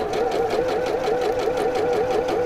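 A sewing machine stitches a curved seam on a zipped pouch, a steady, rapid mechanical whirr with an even pulsing rhythm running close and loud throughout.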